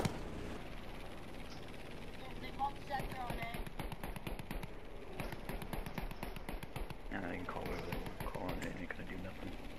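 Aircraft machine guns fire in Battlefield V, long rapid rattling bursts under ongoing game sound, moderately loud and fairly close.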